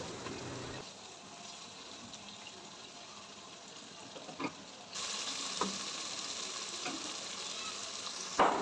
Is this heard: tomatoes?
yes